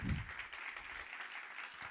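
Congregation clapping during a Spanish-language church sermon, a faint, continuous patter of many hands heard at a distance.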